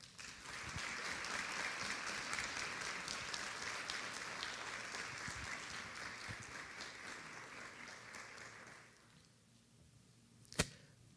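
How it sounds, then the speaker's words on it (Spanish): A roomful of people applauding to welcome a speaker at an academic panel in Honduras, sustained clapping heard from afar that fades out after about nine seconds, leaving quiet broken by a single sharp click. "Le recibimos con un fuerte aplauso."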